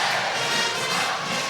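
Basketball crowd in an arena cheering and roaring steadily, a loud dense wall of voices with no single speaker standing out, while a band leader at midcourt whips up the fans.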